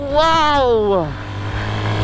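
A motorcycle climbs uphill on a foggy mountain farm road, its engine droning steadily under a man's loud, drawn-out exclamation.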